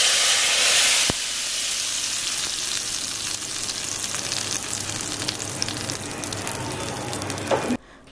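Whole cumin seeds fry and sizzle in hot oil in a pot as a tempering for rajma, a loud bright hiss at first settling into steady crackling, close with no talk.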